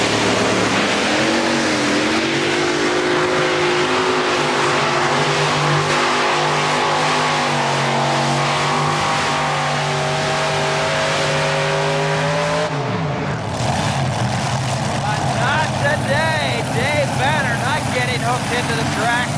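A Chevy truck at a 1987 tractor pull in Syracuse roars at full throttle, its engine note climbing steadily before abruptly dropping and shifting as the pull ends, with an announcer talking over it throughout.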